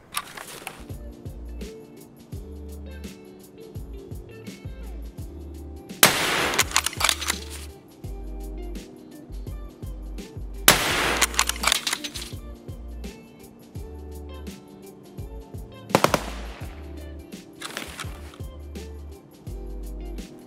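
Gunfire in the shooter game Escape from Tarkov: three loud, harsh bursts of shots spaced several seconds apart, over steady in-game background music and clicking weapon-handling sounds.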